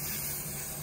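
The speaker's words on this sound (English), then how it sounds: "So what I think is best is not to spray it from far away like this" Foam coil cleaner sprays onto an HVAC coil in a short, steady hiss, close and fairly quiet, with no voices.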